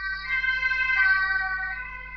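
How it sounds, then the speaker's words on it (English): A police car siren outside on a nearby street, a clear wailing tone rising and falling, heard indoors at moderate distance with no talk over it. "that was a police car driving by, that is towards another street"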